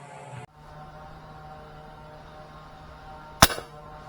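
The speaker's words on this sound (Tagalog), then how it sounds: "unang putok" A single sharp gunshot cracks out nearby during a fish hunt, standing alone against a steady low hum and quiet background.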